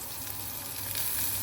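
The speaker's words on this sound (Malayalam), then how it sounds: "തേങ്ങ എണ്ണ ചൂടായപ്പോൾ കുറച്ച് തേങ്ങ ഇട്ട് കൊടുക്കുന്നു" Grated coconut frying in hot coconut oil over a low flame, a continuous close sizzle with faint crackle and light stirring, steady throughout with no voices.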